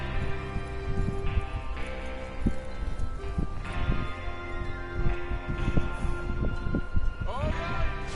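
Horse hooves clop in a steady trotting rhythm in Red Dead Redemption 2 over game music and ambience, with a faint whinny near the end.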